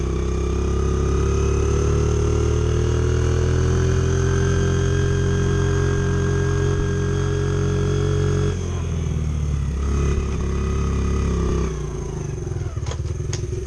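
A Honda XR70 motorcycle fitted with an 88cc big bore kit and running rich holds a loud, steady engine drone close by, its revs blubbering unevenly with a slight dip and rough patch toward the end.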